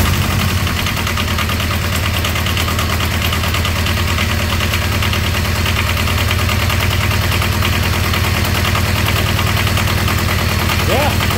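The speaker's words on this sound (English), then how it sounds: "Now, after I start it, I'm still going to hold the glow plug down to, you know, get the cylinder temp up or whatever." A Comfort Pro APU diesel engine idling with the glow plug held down after starting, a loud, dense, steady low rumble with rapid knocking pulses running unchanged throughout.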